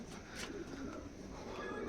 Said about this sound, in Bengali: এগুলো এলাহাবাদি বিগ সাইজের কবুতর